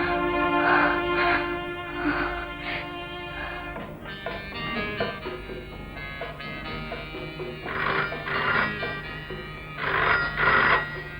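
An old-style telephone bell rings in repeated loud bursts with short gaps, set against a steady background hum in a tense film scene.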